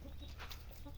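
Hens cluck softly on a goat farm, short low clucks against a continuous background hum, a little distant.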